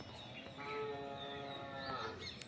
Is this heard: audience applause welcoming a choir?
no